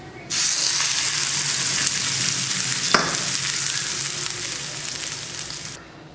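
A hot tempering of dried red chilli and curry leaves poured into tomato mint chutney gives a loud burst of sizzling that holds steady for several seconds, with a brief crackle midway, then cuts off.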